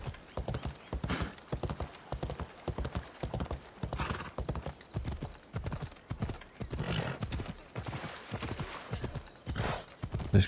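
Horse hooves clip-clopping steadily across a bridge in Assassin's Creed Odyssey, a brisk regular rhythm up close, with a brief whinny and faint background game ambience.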